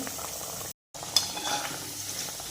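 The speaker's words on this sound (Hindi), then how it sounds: "मेथी के बड़े को मीडियम गैस पे ही फ्राई करेंगे, ताकि अंदर तक बड़े फ्राई होके तैयार हो सके।" Methi vadas fry in oil over a medium flame, giving a soft continuous sizzle with faint utensil clinks; the sound cuts out for a moment, then the steady frying resumes.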